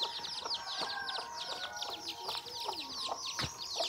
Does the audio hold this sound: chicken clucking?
yes